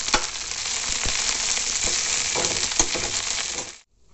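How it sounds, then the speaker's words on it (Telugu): Drumstick leaves crackle in hot oil in a kadai, a loud bright sizzle with sharp stirring clicks that cuts off abruptly near the end. "కడాయిలో నూనె వేసి ఇందాక మనం కడిగి పెట్టుకున్న మునగాకు వేయాలి. వేసి క్రిస్పీగా అయ్యేంత వరకు ఫ్రై చేయాలి."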